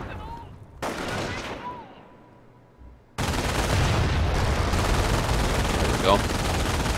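MG machine gun fire in Company of Heroes: after a quiet lull with brief voices, sustained rattling bursts of automatic gunfire break out loudly and keep going under other battle noise.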